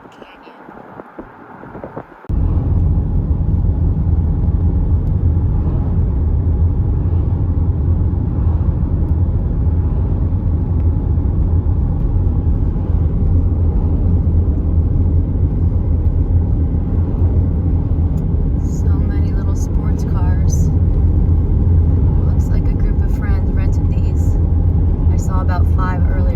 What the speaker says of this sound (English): I'm driving down to Kaleidoscope Canyon.